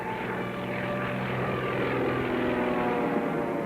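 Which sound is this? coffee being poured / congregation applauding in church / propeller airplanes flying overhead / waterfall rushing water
propeller airplanes flying overhead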